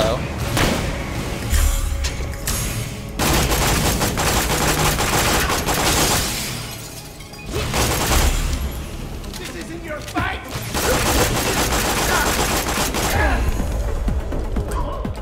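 Gunfire in Borderlands the Pre-Sequel, with loud bursts of shooting and crashing impacts that come in waves and pause briefly, while a voice talks over the action.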